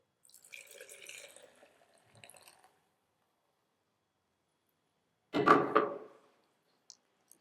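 Homemade cashew nut milk poured into a straining bag, a short burst of liquid splashing after a few faint drips and trickles, close and otherwise quiet with no speech.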